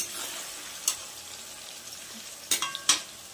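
Potatoes, onions, cinnamon and cardamom fry in oil in a kadai, a soft steady sizzle broken by a few sharp clinks and scrapes of a spoon stirring against the pan.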